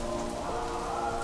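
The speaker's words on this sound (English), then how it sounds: "Rain falls." Steady rain pours down onto surfaces in a continuous, even wash of drops, close and moderately loud, with no voices over it.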